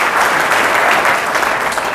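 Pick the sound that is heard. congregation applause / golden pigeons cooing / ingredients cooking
congregation applause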